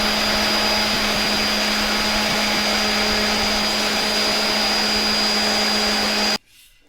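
A power sander works an axe handle on a Double Cedar pattern axe, a loud steady whirring drone with a constant hum that cuts off abruptly just before the end.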